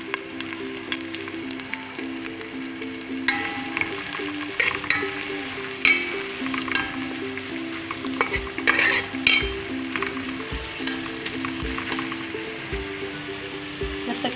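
Onions fry in a pot for beef yakhni pulao with a constant close sizzle, while repeated stirring clatters against the metal over a steady low hum.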